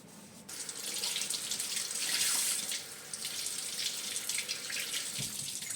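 Tap water runs steadily into a sink while a cloth is rinsed under it, a close, continuous gushing hiss with slight splashing shifts and no voices.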